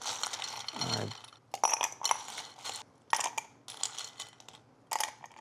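Hard ice cubes clatter and clink into a glass in several quick bursts, close and bright, with short pauses between.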